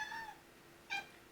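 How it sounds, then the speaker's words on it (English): A cat meows twice, short and fairly close, with a brief pause between calls in an otherwise quiet room. "Hello, cat."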